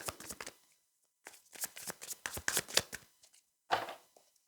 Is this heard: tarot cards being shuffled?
yes